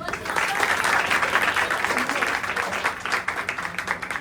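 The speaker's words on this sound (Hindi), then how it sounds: "फिर ताली बजा दीजिए।" Steady applause from an audience at a school open day and farewell event, many hands clapping densely and loudly without a break for the whole stretch.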